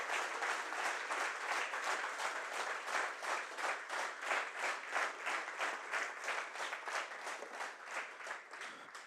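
An audience claps in rhythmic unison to honour the Armenian Apostolic Church, with evenly spaced beats holding a steady tempo for about nine seconds and sounding somewhat distant and subdued, with no talk.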